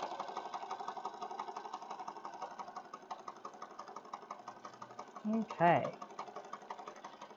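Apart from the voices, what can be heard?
sewing machine stitching a junk journal pocket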